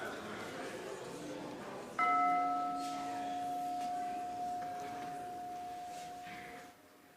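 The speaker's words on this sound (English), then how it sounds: "Ring a bell." A single bell is struck once at the opening of a worship service. It gives a clear, sustained ringing tone that hangs for several seconds and fades slowly after faint chatter in the room.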